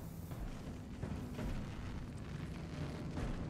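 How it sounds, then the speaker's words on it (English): Artillery barrage in Company of Heroes 3 multiplayer, a low, rumbling series of heavy booms and explosions rolling on continuously at moderate distance, with no talk. "Artillery barrage on the way."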